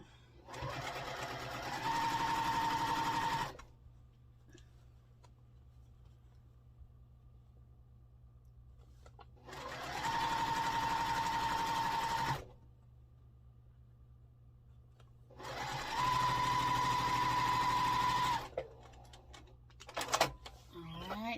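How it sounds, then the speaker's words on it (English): A sewing machine stitches quilt block pieces in three sustained runs of a couple of seconds each, a close, even mechanical whir with quiet pauses between runs and faint handling noises. "sew right down, making sure that these match"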